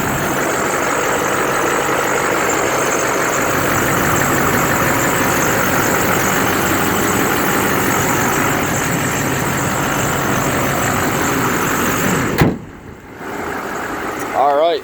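A 2008 GMC Sierra 2500 HD pickup's 6.6 liter Duramax diesel engine idles steadily up close, a continuous low rumble with a brief dip near the end.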